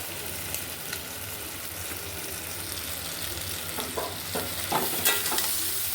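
Fish curry with tomato stirring and frying in a pan, a steady sizzle with repeated scraping stir strokes growing busier toward the end, close and alone without talk.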